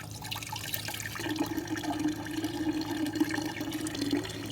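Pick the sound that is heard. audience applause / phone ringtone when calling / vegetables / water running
water running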